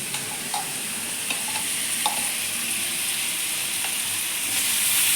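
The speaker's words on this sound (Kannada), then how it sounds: "ಇದು ಕೂಡ ಹಸಿ ಸ್ಮೆಲ್ ಹೋಗೋವರೆಗೂ ಚೆನ್ನಾಗಿ ಎಣ್ಣೆಯಲ್ಲಿ ಫ್ರೈ ಮಾಡ್ಕೋತಾ ಇದ್ದೀನಿ" Ginger, garlic and green chilli paste fries in oil with a constant close sizzle and occasional soft stirring taps, holding steady and rising slightly at the end, with no talking.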